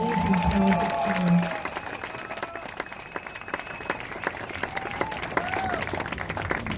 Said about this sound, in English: how about another round of applause for our amazing, talented singer